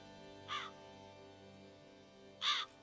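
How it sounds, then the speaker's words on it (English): Two harsh crow caws spaced about two seconds apart ring out over a quiet, humming ambience in The Witcher 3. "Lots of crows."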